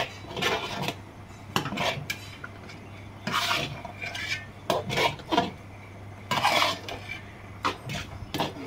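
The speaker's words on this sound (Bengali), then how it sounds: "এইভাবে নাড়তে থাকবে যাতে খিচুড়িটা নিচে লেগে না যায়" Gobindobhog rice khichuri is stirred in a pot, with irregular scraping and rubbing strokes of a spoon against the pot bottom in clusters, close and fairly soft, with no voices.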